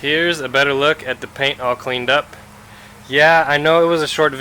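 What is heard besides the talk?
No distinct noise like a dog, phone or traffic.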